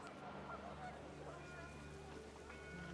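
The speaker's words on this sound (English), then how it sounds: "The wind picked up and panicked geese appeared and quickly went." Panicked geese honk in the video game What Remains of Edith Finch, their calls layered over a steady windy background, with a faint voice underneath.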